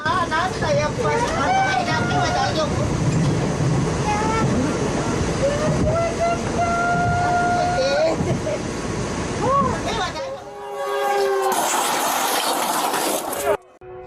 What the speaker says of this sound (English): Train charges through jungle debris, smashing through mud and vegetation in raw force display.